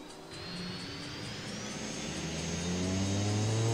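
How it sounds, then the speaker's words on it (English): The right engine of an aircraft starts up in the X-Plane 11 flight simulator game, a low hum joined by a rising whine that climbs steadily in pitch and loudness, with no talking. "we're going to start with the right engine."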